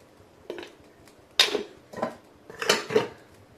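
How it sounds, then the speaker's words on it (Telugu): A metal kadai pan is set down on a kitchen stove, giving several separate clanks and scrapes of metal over about three seconds, close and moderately loud, with no talking. "ముందుగా స్టవ్ ఆన్ చేసుకొని బాండి పెట్టుకుందాం."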